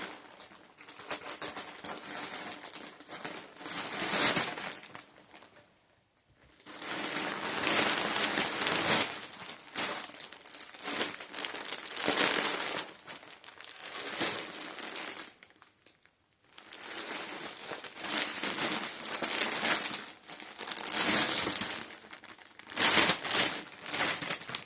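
Packaging crinkles loudly and continuously at close range as a cotton dress is unboxed, in long rustling stretches broken by a couple of brief pauses.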